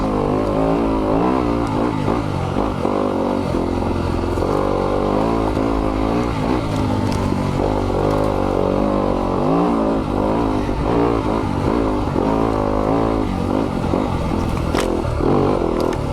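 A 2020 Yamaha YZ250FX dirt bike engine runs on a trail with a steady, loud drone, rising and falling as the throttle works, with clattering over rough ground throughout.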